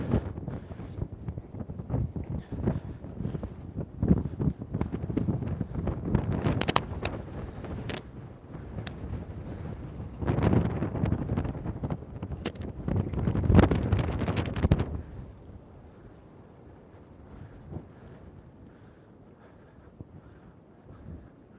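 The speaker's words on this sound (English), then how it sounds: "It will get windy, so you'll hear wind noise." Steady low rumbling wind buffeting a microphone on the seafront at Southport, gusting louder in the middle, then easing to a quieter hiss near the end.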